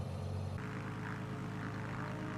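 A Beechcraft Bonanza's piston engine in Microsoft Flight Simulator holds a steady droning hum, then steps up in pitch and intensity as the throttle opens, the propeller whirring on continuously.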